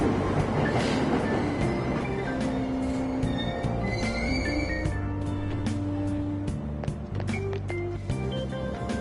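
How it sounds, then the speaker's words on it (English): A subway train in a video game pulling away from Aoyama Itchome station, with a steady rolling rumble, wheel clatter and layered tonal hums rising under it, loud and close throughout. "Train doors are now closing."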